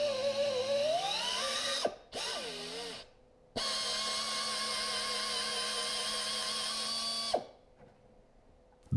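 Threading a 3/4-10 tap into a custom aluminum adapter with cutting fluid, heard as a loud powered drill whine that rises in pitch, stops and restarts, then runs steadily for several seconds before cutting off.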